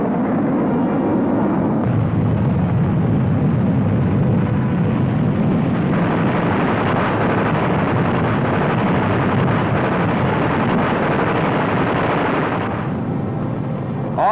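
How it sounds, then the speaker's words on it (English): A wartime Buzz Bomb, the pilotless flying bomb, drones past in old film footage as a steady, rough roar with wind-like rush, loud throughout and swelling in the middle before easing. "In the late stages of the European War came the Buzz Bomb, a 400-mile-an-hour pilotless plane"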